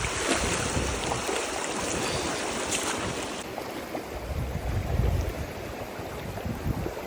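A cold, icy mountain stream rushes along a hiking trail in grizzly country, a dense, close, continuous wash of water with a brighter hiss at first that softens partway through, no voices.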